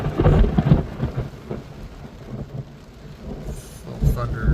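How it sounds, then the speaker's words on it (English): Thunder rumbles low and heavy through steady rain, with a loud rolling burst at the start and another swell near the end over a constant patter of rain. "little thunder crackling."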